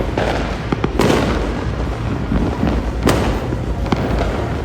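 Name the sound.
fireworks exploding at New Year celebration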